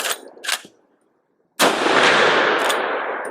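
A Marlin Dark Series lever-action rifle fires a heavier grain round in a single loud, sharp blast that rings out with a long decaying echo outdoors, preceded by brief faint rustles and a short silence.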